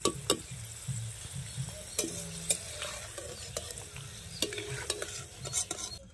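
Green beans fry in a pan with oil for vegetable fried rice, a soft steady sizzle broken by sharp scrapes and clinks of a spatula stirring against the metal.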